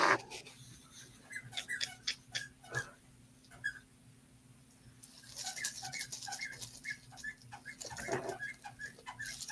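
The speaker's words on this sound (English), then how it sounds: "Is it a squeaky toy?" A dog plays with a squeaky toy indoors, producing a rapid run of thin, high squeaks that come in clusters over a low steady hum, with no speech.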